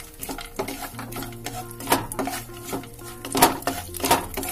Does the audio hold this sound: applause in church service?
no